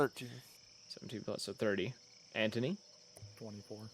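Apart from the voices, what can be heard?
crickets chirping at night, ambient sound effect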